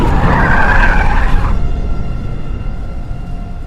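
A car in the game Spectral Time Slip brakes hard, tires skidding loudly on tar for about a second and a half before the squeal cuts off, leaving a low rumble.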